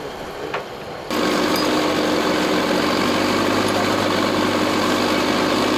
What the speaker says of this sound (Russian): Лишь после этого трактор начал движение к берегу.